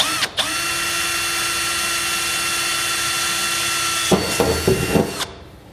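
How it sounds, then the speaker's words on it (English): A small power drill with a 1/8 inch bit whines steadily for several seconds drilling holes in a Ram truck frame, then cuts off into a few short bursts and clicks as it stops. "So we'll take our 1/8 inch drill bit"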